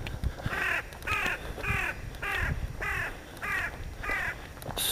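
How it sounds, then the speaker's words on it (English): A crow caws about eight times in an even, repeating rhythm. The calls are moderately near and stand out over a quiet outdoor background, with no speech. "Good morning, Mr. Crow."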